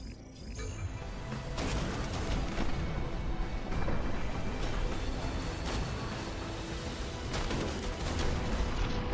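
Rocket barrages fired by giant mech robots in the tactical game Phantom Brigade, a dense, loud, continuous roar of booming launches and blasts with sharp bursts near the start and end and no talking.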